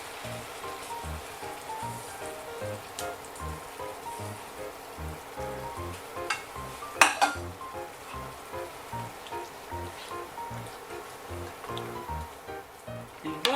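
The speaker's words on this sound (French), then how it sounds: "En ébullition." Strips of beef in a girolle mushroom sauce boil in a pan after a cognac flambé, a steady close sizzling and bubbling with small irregular pops throughout.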